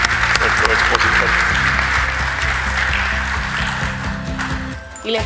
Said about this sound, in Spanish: les brindamos un muy fuerte aplauso a todos y cada uno de ellos